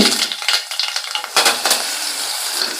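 Mustard seeds and curry leaves hitting hot oil, a bright, close crackling sizzle with popping spatter and a scrape of a spoon in the pan.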